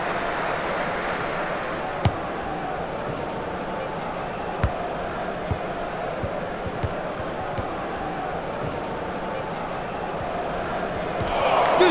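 A stadium crowd in Dream League Soccer holds a steady roar that swells toward the end after a near-miss shot, with a few dull thuds along the way and a commentator talking over it.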